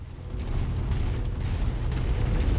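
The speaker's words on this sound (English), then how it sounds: "Just blow it up and get the hell out." A target explodes in MechWarrior 5 as a heavy, sustained rumbling boom with repeated blasts and crackling bursts layered over a deep continuous roar.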